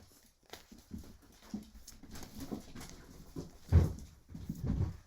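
Several dogs whimper and stir indoors, with soft scuffling and short yelps rising to a louder burst near the end, heard close and moderately loud.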